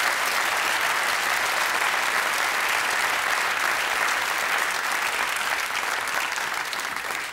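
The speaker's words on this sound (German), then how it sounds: "Ja, kleiner Applaus." Studio audience of a German TV comedy show breaks into sustained applause, a dense, steady roar of many hands clapping close and loud, holding even throughout and easing slightly at the very end with no talk over it.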